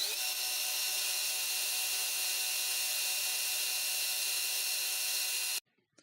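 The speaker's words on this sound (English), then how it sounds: "The slab is inside lathe chuck. We are drilling." A steady, high-pitched machine whine of drilling into a metal slab held in a lathe chuck runs continuously for several seconds, then cuts off abruptly into near silence.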